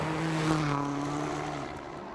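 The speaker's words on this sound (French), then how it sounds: "mais également le pilote autrichien sur sa Peugeot privée. La voici, Manfred Stoll." A private Peugeot rally car on a New Zealand WRC special stage passes by in 2006, a steady engine drone whose pitch drops slightly as it goes, fairly loud and alone without voices.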